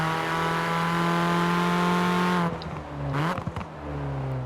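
A Mini JWC Countryman's engine in Forza Horizon 4 holds a loud steady drone, then drops away abruptly into a few quieter whirs and rattles before the engine tone resumes at a lower level.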